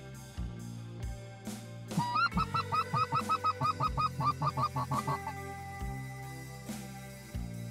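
Geese and ducks call during a waterfowl hunt in Saskatchewan, a rapid run of about a dozen loud, rhythmic honks over a low steady drone, with softer scattered calls before and after.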